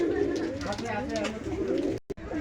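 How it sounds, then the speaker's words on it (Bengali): Red-eyed Bhushal pigeons coo in soft, rolling low phrases at close range, repeated across the moment, with a voice speaking over them before a brief break near the end. "এই যে রক্তের মতন চোখ লাল ভূষাল কবুতর"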